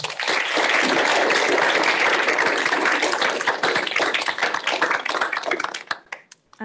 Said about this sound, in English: one last round of applause for our wonderful speakers